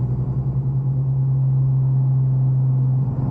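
A Nissan Skyline R34 engine holds a steady, loud low drone throughout, with only a slight change near the end as the gears shift; no clear rev swings are evident.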